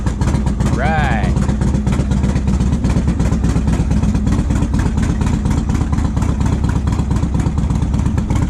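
A cold Yamaha XV1700 Road Star cruiser motorcycle, 2004 Midnight Edition, idles steadily on one notch of choke with a low, continuous engine rumble throughout, close and loud, with a brief voice near the start.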